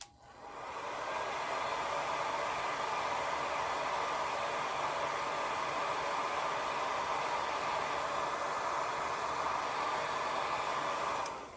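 A hair dryer blows steadily over freshly laid watercolor paint on a pink rose painting, a continuous close whooshing hiss that runs unbroken for about eleven seconds before cutting off.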